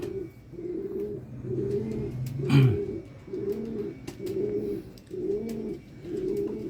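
Racing pigeons, a hen and a cock, coo in a steady run of repeated low throaty phrases, close and fairly loud, with a brief flutter or scuffle partway through.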